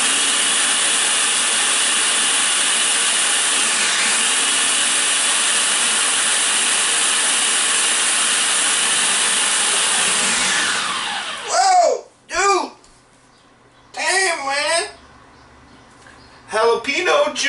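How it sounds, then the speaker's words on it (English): A food processor whirs loudly and steadily for about eleven seconds while chopping jalapeno and other marinade ingredients, then cuts off, followed by talking. "We got my ingredients in the machine. And we're gonna do some chopping by machine."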